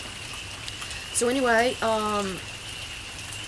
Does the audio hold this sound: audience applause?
no